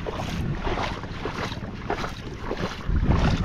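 Strong wind buffets a small fishing boat at sea, a constant roaring rush with gusts against the microphone and the low churn of water beneath.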